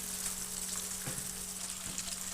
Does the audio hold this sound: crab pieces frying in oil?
yes